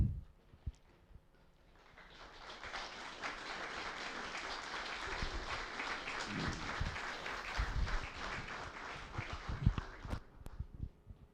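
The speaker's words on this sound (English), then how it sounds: "please feel free to join us with applause to warmly welcome and honour them" Audience applause at the Barnstaple Fair Proclamation Ceremony, starting with a few claps, then swelling into sustained, dense clapping from a room of guests that holds steady for several seconds before tapering off with scattered final claps and some shuffling.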